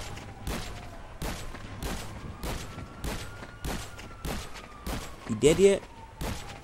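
Heavy shotgun blasts in GTA Online, roughly ten loud booming shots fired at a steady pace, with someone talking briefly partway through.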